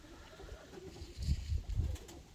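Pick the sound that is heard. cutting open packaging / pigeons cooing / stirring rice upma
pigeons cooing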